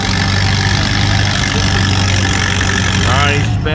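A Farmall H2 antique tractor with fenders drones steadily under load at a tractor pull, a loud, continuous low engine note with an announcer talking over it throughout.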